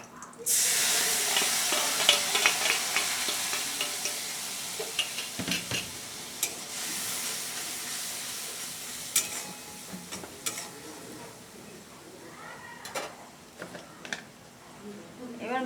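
Spice paste is stir-fried in oil for a prawn, elephant foot yam and potato curry: a loud sizzle at the start settles into quieter frying, punctuated by repeated clinks and scrapes of a spoon in the pan.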